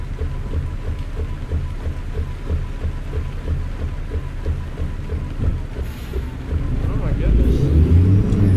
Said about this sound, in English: Rain like crazy up here.